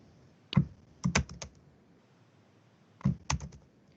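Two short bursts of typing on a computer keyboard while data is entered into a spreadsheet, with a few quick, close, crisp key clicks in each burst and a quiet pause between them.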